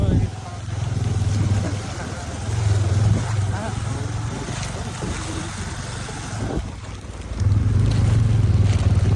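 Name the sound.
motorbike riding on a rough off-road trail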